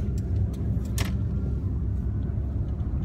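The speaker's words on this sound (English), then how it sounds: "And my dad is driving the car." Steady low engine and road rumble from inside a car being driven on the road, continuous throughout, with a brief rattle near the middle.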